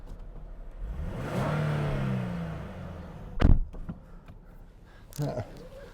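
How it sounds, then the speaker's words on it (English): A 2014 Nissan 370Z 3.7-litre V6 engine revs up and rises in pitch, then settles, followed by a couple of sharp bursts; a voice is heard briefly. "And this engine, the sound is absolutely awesome. If you just listen to this."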